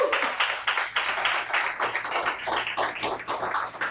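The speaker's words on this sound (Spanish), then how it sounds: "En un aplauso al Señor." Church congregation clapping after a sermon, a moderately loud, fairly close patter of many hands with uneven rhythm and rising and falling swells, continuing throughout with no speech over it.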